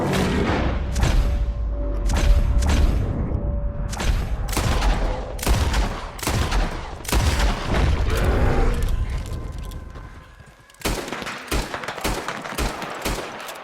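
Gunfire in the Red Dead Redemption 2 video game, a long series of loud, sharp shots in irregular bursts with echoing booms between them, a brief lull near the end, then rapid shots resume.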